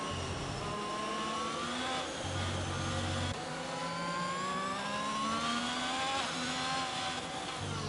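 Formula 1 cars from a racing video game driving in wet, rainy conditions on the Singapore circuit: steady loud engine whine with rising and falling pitch as gears shift, several cars overlapping continuously.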